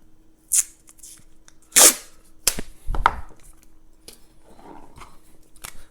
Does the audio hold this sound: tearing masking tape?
yes